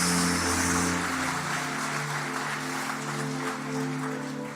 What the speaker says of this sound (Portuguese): Aplauda a vida dela, aplauda a decisão dela.